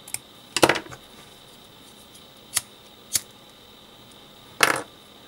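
Scissors cutting ribbon for a hair bow, four or five short crisp snips spaced apart, the first a quick double cut, close and clear against a quiet room with no talking.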